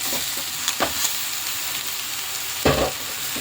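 Onions and boiled greens fry in a pan with a steady, soft sizzle and are stirred, with a few louder scrapes and clatters of the spoon against the pan.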